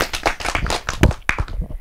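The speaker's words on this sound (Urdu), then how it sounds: "حافظ صاحب کے لیے ہو جائیں تالیاں" Studio audience clapping for a young boy guest on a Pakistani children's radio-on-TV show, a short burst of hand claps lasting under two seconds, fairly close and uneven, with no talk over it.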